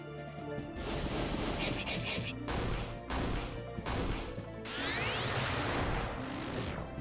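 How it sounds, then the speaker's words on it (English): A water cannon attack in the RPG Maker game Turovero: The Celestial Tower, a loud burst of gushing, crashing spray in several surges with whooshing sweeps, filling the clip without talk. "Water cannon you."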